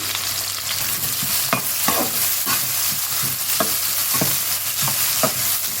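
Chopped onions and green chillies frying in oil in a kadai, a loud continuous sizzle broken by repeated sharp scraping strokes of a ladle stirring every half second or so.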